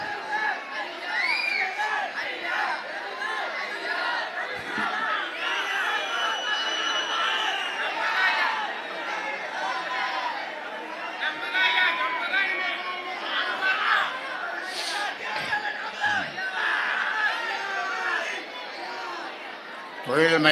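A large crowd at a farmers' conference in Tiruvannamalai keeps up a dense, continuous roar of overlapping chatter and shouting, with scattered laughter rising through the steady din.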